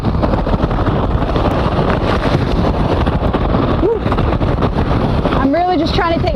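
Hurricane Laura's landfall gusts roar against the microphone as loud, continuous wind buffeting, close and rumbling, with a person talking briefly near the end.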